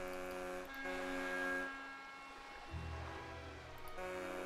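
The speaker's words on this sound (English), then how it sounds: "Oh, were they honking back at us?" A vehicle horn honks in the Nancy Drew game Danger on Deception Island, several steady tonal blasts sounding in turn over a low rumbling engine, fairly loud with no talk.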